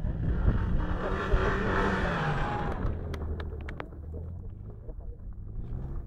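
Sports-car engine pulls hard on snow, a loud rising growl and roar close by that eases off midway, with faint voices and small clicks underneath as it settles.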